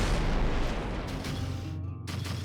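An incoming missile blows up in Rebel Galaxy Outlaw, a loud, broad roaring blast that fills the moment and rumbles on with crackling debris, with a brief dip near the end.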